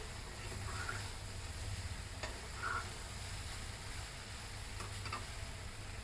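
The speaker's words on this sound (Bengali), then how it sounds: "অনেকে একটু কম ভাজে আর ভাজিটা একটু ভালো করে ভাজলে কিন্তু সুন্দর হয়" Mixed vegetables fry in a hot pan with a continuous low sizzle and hiss, broken by a few soft stirring clicks, close and steady with no talking.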